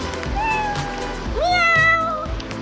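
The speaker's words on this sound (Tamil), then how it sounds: "மியா பாருங்க, மியா பூனை பூனை பூனை ஹை கிட்டி" A cartoon cat in a video game meows twice, a short rising mew followed by a longer, louder drawn-out meow, close and clear over a soft watery background.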